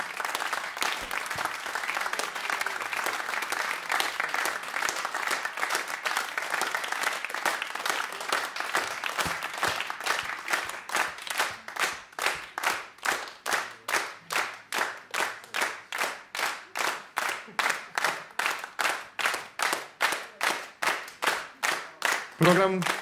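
A concert audience applauds a jazz septet with a dense wash of clapping that gradually turns into loud, rhythmic clapping in unison, sustained for over twenty seconds.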